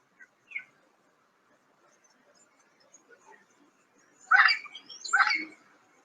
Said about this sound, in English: Mucho loros, lots of parrots.